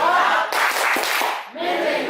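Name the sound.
classroom rhythmic hand clapping, tepuk fokus clap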